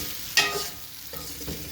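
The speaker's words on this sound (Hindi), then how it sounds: "ऑयल में सीख कबाब को फ्राई कर लूँगी तकरीबन 1 से 2 मिनट के लिए" Seekh kebabs fry in hot oil, sizzling steadily up close with a couple of brief stirring scrapes, and no voices.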